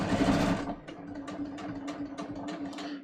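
A domestic sewing machine basts jeans denim with a double thread, running in a steady mechanical whir with rapid stitching clatter, loud at first and then continuing slightly softer, with no talking.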